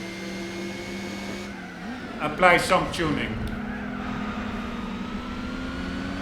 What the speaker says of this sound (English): Pretty cool how the engine sounds in this car, really is different with the rotary engine.